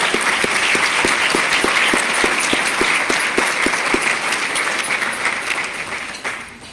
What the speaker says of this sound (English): So a big round of applause for all of our partners.